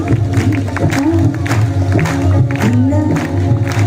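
Audience at a Baba Shyam kirtan in Bhiwani, Haryana, clapping along in rhythm beneath amplified devotional singing and harmonium-like drone, the claps steady and layered under the music.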